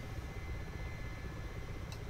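Mi-8 Hip helicopter in simulated flight between Batumi and Sochi, a steady low rotor and turbine drone, faint and unbroken for the whole moment.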